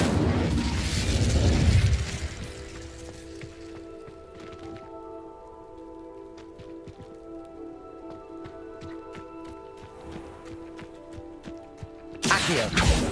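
Incendio fire spell cast in Hogwarts Legacy, a loud crackling burst of flame at the start fading into a quieter magical hum, then another sharp burst near the end.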